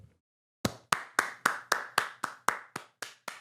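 Light, slow golf claps from a group, about eleven soft evenly spaced claps roughly a quarter second apart, close and fairly quiet, with no talking.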